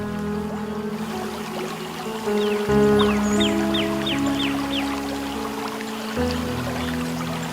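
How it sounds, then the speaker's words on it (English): A flowing river runs as a steady wash of water, with birds chirping and sustained low droning tones layered over it. "Hotspot, just listen to the river."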